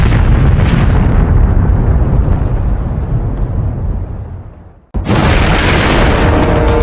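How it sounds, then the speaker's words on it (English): A massive explosion blast, likened to bombs far stronger than an ammonium nitrate truck bomb, roars loudly and rumbles for several seconds before fading, then is abruptly cut to another dense, loud roaring burst. "To help put these explosions in perspective, the force of the blasts were 850 times stronger"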